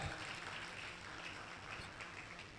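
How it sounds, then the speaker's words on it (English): An audience applauds at a university employment clinic event at UNILAG, a continuous soft wash of clapping heard from a distance, fairly faint and even throughout. "A round of applause for her."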